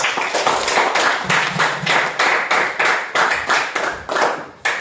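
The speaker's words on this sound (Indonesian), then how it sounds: "beri aplaus kelompok 1" A group claps in applause after a classroom group presentation, with rhythmic, close, steady hand claps that continue without pause for several seconds and carry no speech.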